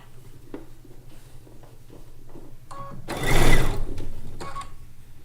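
A sewing machine stitches Lacey Log Cabin quilt blocks in short, quick runs, with a longer, louder burst of stitching midway, followed by quieter clicks and handling noise.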